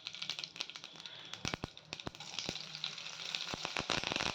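Mustard seeds and green chilli hit hot oil in a kadai, bursting into rapid, sharp crackling pops that come in quick irregular clusters over a bed of sizzling.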